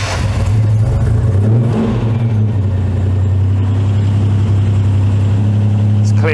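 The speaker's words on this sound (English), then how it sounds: "A little bit of throttle again so we don't flood her." A Ford Capri Brooklands Turbo with a stalling fault and a flooded engine runs close by. It holds a steady, low mechanical drone while the throttle is blipped and the engine speed shifts slightly.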